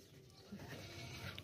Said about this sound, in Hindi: बकरा है, बकरा।